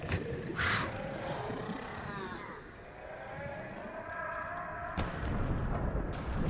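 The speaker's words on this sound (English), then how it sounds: "sounded like it exploded" An underwater explosion in the video game Subnautica: a low rumbling blast with rolling, echoing tail, then sharp cracks near the end, moderately loud.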